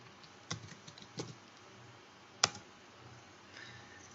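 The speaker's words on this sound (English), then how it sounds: "So we're going to type in clean" Several keystrokes on a computer keyboard while a disk-cleaning command is entered, a few soft clicks in the first second followed by one sharper, louder tap, with no talking.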